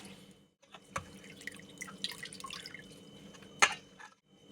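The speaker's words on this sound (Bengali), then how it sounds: "এরকম চেপে চেপে জল ফেলে দিতে হবে" Water drips from squeezed, salted water lily stems, landing in a few distinct close drops and splashes over a faint quiet background, with no talking.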